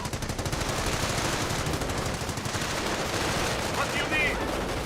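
Rifle and machine-gun fire from a World War II strategy game, Company of Heroes, crackles in dense, continuous bursts close up, and a voice talks over the shooting.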